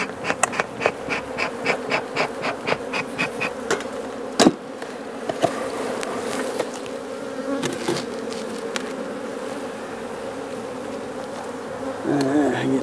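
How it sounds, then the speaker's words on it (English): Honeybees being shaken into a starter box hum loudly and close by, with a rhythmic series of pulsing bursts at the start, a sharp knock, then a continuous swarming drone. "They got bees everywhere."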